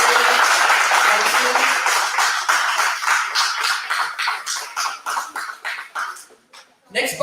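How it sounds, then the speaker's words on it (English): Applause from the audience at a college debate competition fills the hall loudly at first, then breaks up into scattered claps that fade toward the end. "Can we have a big round of applause for Harshita?"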